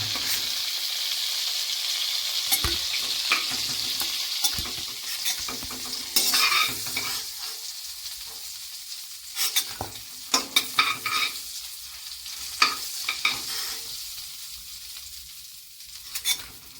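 Prawns fry in hot oil in a pan while being prepared for a Bengali malai curry. A steady, bright sizzle runs throughout, broken by occasional stirring scrapes and clinks.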